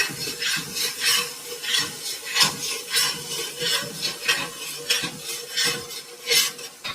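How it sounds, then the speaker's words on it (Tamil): Masala paste for Dindigul mutton biryani sautéed and stirred in a pan, with steady rhythmic scraping strokes of a spoon against metal over a low sizzle, close and fairly loud, no voices. "இந்த மசாலாவோட கலர் சேஞ்ச் ஆகி பச்சை வாசனை போகிற வரைக்கும் வதக்குங்க."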